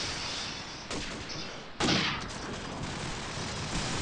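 Gunfire from the video game Call of Duty 4 multiplayer, a steady dense rattle of shots with sharper bursts near one and two seconds, loud and continuous without talk.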